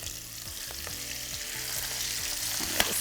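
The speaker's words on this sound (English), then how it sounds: "Already getting a beautiful sizzle in there." Chicken thighs sizzle skin-down in a frying pan, a loud, close, continuous hiss of frying broken by faint clinks and light crackles, with no talking.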